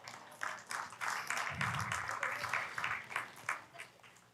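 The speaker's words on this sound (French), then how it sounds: "120 personnes ont applaudi, c'est parfait." Congregation in a church in Magog applauding together, a steady wash of many hands clapping at moderate loudness that swells and holds for several seconds without talk.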